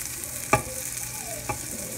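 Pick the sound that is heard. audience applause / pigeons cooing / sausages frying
sausages frying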